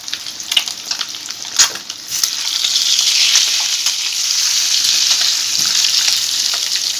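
Potatoes for egg curry frying in hot oil in a pan, opening with a few clatters, then a loud, continuous bright sizzle that holds steady to the end.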